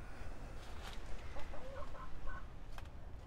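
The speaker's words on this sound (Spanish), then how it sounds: "Solamente me quedan tres gallinas." Hens cluck softly inside a henhouse, a few short, faint calls scattered over a constant background hiss.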